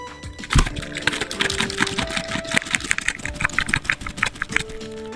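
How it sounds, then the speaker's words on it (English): A whole pack of Grabie acrylic markers shaken together, a rapid loud rattling clatter of mixing balls and plastic in uneven bursts, fairly close and continuous. "picked up the whole pack and just started shaking them"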